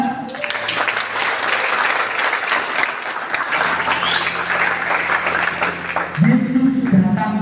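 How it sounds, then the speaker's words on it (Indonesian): A congregation at a youth Christmas service claps together in sustained, dense applause, and a voice and some singing rise up over the clapping toward the end. "Mau tepuk tangan buat Tuhan"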